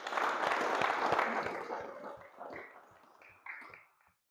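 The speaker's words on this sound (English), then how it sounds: "So could you please give a rapturous round of applause for a friend," A congregation at a Thursday service applauds a friend and colleague, Nick Brown: dense clapping that peaks loud at the outset, then thins and tapers, with a brief resurgence before fading out.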